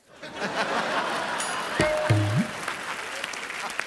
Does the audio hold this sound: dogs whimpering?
no